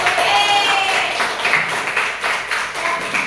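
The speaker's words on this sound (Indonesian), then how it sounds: "Tepuk tangan dulu." A group claps and applauds, a dense burst of clapping that carries on steadily throughout, fairly close.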